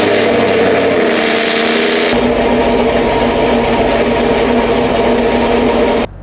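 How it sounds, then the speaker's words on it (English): A car engine runs loud and close, a steady mid-pitched drone that deepens slightly after the first couple of seconds and holds until it cuts off at the end. "hearing the engine."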